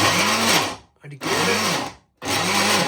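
A blender whirring through milk for a milkshake in three loud close bursts, each cut by a short pause, with a steady motor hum under the grinding.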